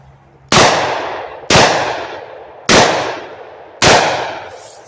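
A Combat Magnum revolver fires at a target on a range: four loud, sharp shots roughly a second apart, each trailing off in a long ringing decay.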